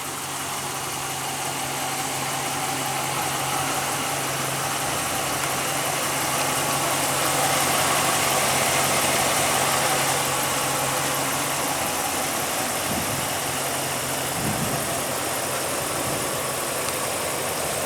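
A 2015 Ram 1500 pickup with its 5.7 L Hemi V8 idles steadily with the hood open, giving a constant low rumble and faint mechanical ticking that runs unbroken for the whole stretch.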